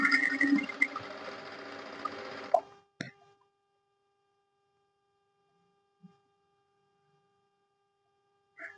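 A sewing machine stitches a straight cut pant in one fast, continuous run of about two and a half seconds, then stops; a couple of faint taps and clicks follow in near silence.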